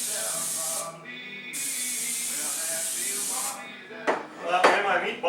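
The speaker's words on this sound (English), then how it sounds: "instead of using oil, I use vegetable spray. I'll spray up this in here like this." Vegetable cooking spray hisses into a pan in two steady bursts, close and loud, followed by a couple of sharp clatters as the can or pan is handled.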